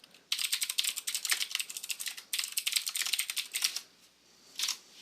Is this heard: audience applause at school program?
no